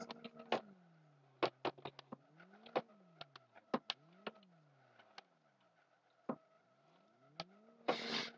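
Short, sharp engine revs and falling pitch sweeps from a car in the Live for Speed racing game, repeated in quick bursts with brief pauses between, fairly loud and alone.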